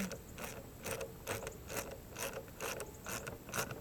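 A socket ratchet snugs a bolt on a Briggs & Stratton 500e series mower carburetor, giving about eight rhythmic, close, quiet clicking bursts of the pawl with no talk.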